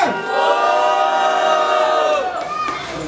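At an open-air rap battle in Rocinha, a large crowd roars and cheers loudly and continuously, with shouts and whoops blending into a sustained wall of noise.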